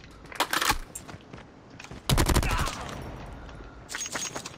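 Gunfire in Call of Duty Mobile: a couple of short bursts of rapid shots, the loudest burst in the middle, with scattered shots toward the end, crisp and fairly close.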